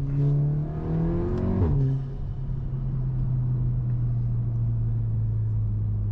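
A Volkswagen Golf GTI Mk8 with the performance package pulls away under acceleration, its engine note rising through the revs, then settling into a steady droning hum as the car cruises.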